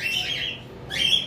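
A red factor pet bird gives two short, bright chirping calls close by, the first drawn out and the second quicker, against a quiet background.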